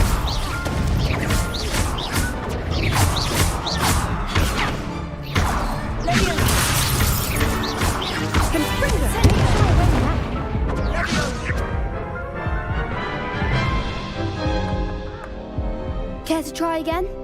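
Confringo blasting spells go off over and over in a Hogwarts Legacy duel, a run of sharp cracks, crashes and shattering bursts mixed with other spell effects, with a voice calling out through the fight.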